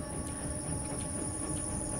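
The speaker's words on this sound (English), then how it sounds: "There's that train again." A train rumbles past in a puzzle-platformer video game: steady, continuous low rumble with a faint high whine, moderately loud and unbroken throughout, with no talk.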